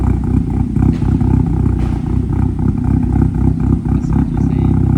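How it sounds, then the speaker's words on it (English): A loud, deep engine rumbling close by from a Hyundai Elantra N with a loud full exhaust, a continuous metallic rattle of the shaking exhaust running through it, steady throughout. "You hear that rattle? That's what I'm talking about. Do not rev it, please. The whole exhaust is shaking"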